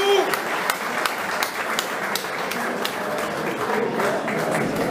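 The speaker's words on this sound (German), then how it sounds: "Ein herzlicher Applaus, bitte." Audience applause at a professional boxing event in a German fight club, a steady wash of clapping with a voice speaking over it.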